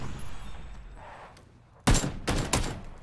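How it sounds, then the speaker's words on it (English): Gunfire in PUBG: a quiet lull, then three loud, close shots in quick succession near the end, with no talk over them. "Oh, we're getting shot in the back"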